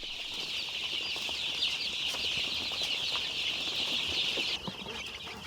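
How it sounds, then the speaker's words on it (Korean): Young chicks grown large in a crowded brooder room chirp steadily in a dense, continuous chorus while pecking at rice bran, with faint clucks and wing flutters mixed in and the calls easing slightly near the end. "병아리실이 좁아 보일 만큼 쑥쑥 자란 병아리들은 쌀겨를 먹을까?"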